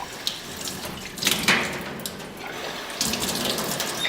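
Tap water running into a bottle at a sink, a soft hissing splash with brief gushing surges, fairly quiet and close, with no talking.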